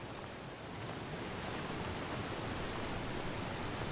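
Waterfall in The Long Dark video game, a dense, steady rushing roar of falling water that holds constant and close for several seconds with no voices.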